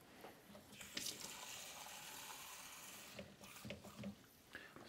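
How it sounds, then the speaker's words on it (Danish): Water splashes and gushes into a blender jar while making a green smoothie, a loud, hissy pour with a few bursts of stronger splashing. "Og så kommer vi noget vand derned."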